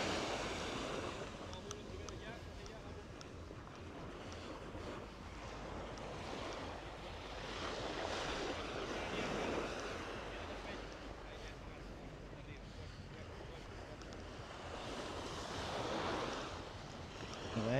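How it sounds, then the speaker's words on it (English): Ocean waves wash steadily onto a sunny beach at Puerto del Carmen, Lanzarote, a continuous broadband roar of surf swelling and easing with gusts of wind buffeting the microphone. "Nice ocean."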